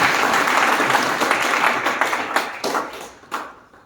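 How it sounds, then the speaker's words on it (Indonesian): A church congregation claps for Jesus at a Sunday service, a dense, loud burst of applause that slowly thins and fades, with a few last scattered claps near the end. "Tepuk tangan sekali lagi bagi Yesus."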